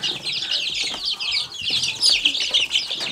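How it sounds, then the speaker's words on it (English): A mosaic chicken clucks nearby in a farm hatch pen among other mixed chicks, giving a busy, continuous string of high chirps and clucks. "This one right here is a mosaic chicken."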